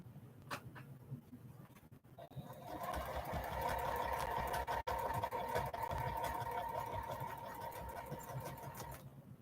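A sewing machine doing free motion quilting, heard nearby with a steady, whirring mechanical hum that builds after a few quiet taps and runs continuously for several seconds before easing slightly.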